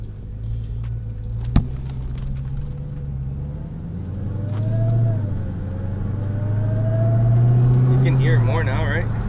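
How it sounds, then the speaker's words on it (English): The supercharged engine of a Dodge Challenger SRT Hellcat, fitted with a Legmaker intake, rumbles at idle and then swells through two throttle blips with a rising whine, while people talk over it and a sharp click sounds early on. "I'm barely into the throttle when it's coming alive."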